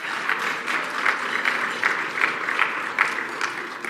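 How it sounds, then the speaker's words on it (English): Conference attendees applaud airline sponsor Air Canada with a moderate round of clapping that swells and dips in soft waves, fairly distant in a large hall. "one more round of applause for our airline sponsor,"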